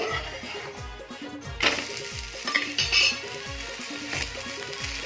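A gavna, a lacy Konkan rice pancake, sizzles steadily in a pan after being flipped, with repeated scraping and stirring knocks and a few clinks, and no voices.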